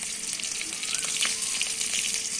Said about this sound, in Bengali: তেলে দিলাম রসুন কুচি আর পেঁয়াজ কুচি।